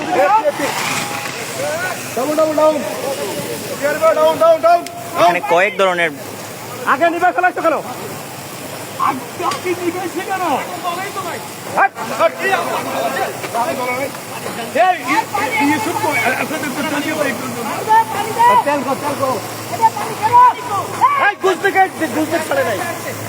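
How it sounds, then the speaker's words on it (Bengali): Water jets from several branch pipes, including a revolving branch pipe, spraying onto an oil fire during a firefighting training drill, producing a loud steady rushing hiss that runs throughout under continuous talk and crowd babble. "বিভিন্ন ধরনের ব্রাঞ্চ পাইপ ব্যবহার করে অগ্নি নির্বাপন করা হচ্ছে"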